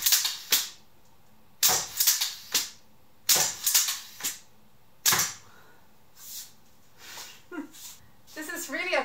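Instant Legolas bow by Joerg Sprave shooting arrows, giving several sharp, loud snaps and thwacks in irregular bursts, each followed by brief rattling decay, with quieter clicks and a higher chirping sound near the end.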